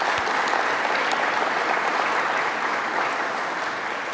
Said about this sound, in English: Have a big round of applause for them